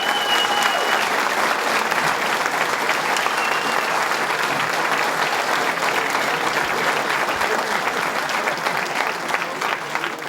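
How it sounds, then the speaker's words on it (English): Listeners at a power plant gathering give a loud, sustained round of applause, with dense continuous clapping and faint crowd murmur holding steady for the whole stretch. "So give yourselves a round of applause."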